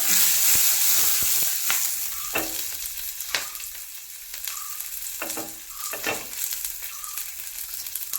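Fennel seeds, garlic, shallots and curry leaves frying in hot oil: a loud, dense sizzle close up, broken by repeated scraping and clinking stirs of a spoon against the pan.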